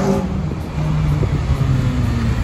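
Car engine fitted with a custom cold air intake and velocity stack, heard while driving: a steady low engine drone with road noise, fairly close and continuous, with no talking.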